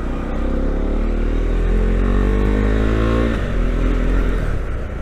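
A KTM Duke 390 BS6 motorcycle engine revs up steadily, its pitch rising over several seconds and then dropping. The engine sounds loud and close, with no talking.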